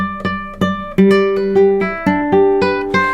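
A guitar plucks a run of bright, ringing notes one after another at an even pace using rest strokes, in a flamenco rumba style, close and clear with no talking.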